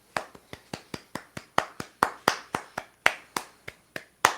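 A single person gives a slow, sarcastic golf clap, about seventeen crisp, close hand claps in a loose, steady rhythm with quiet gaps between them.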